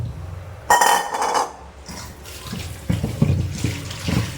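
Magur catfish are washed by hand under running tap water in a sink, with splashing, sloshing and occasional clinks as the fish are rubbed clean, close and fairly loud.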